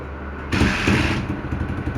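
Honda CG 125 motorcycle engine idling close by: after a short quiet start, a steady low putter runs on with a rough, even pulse, briefly louder at first, with no talk over it.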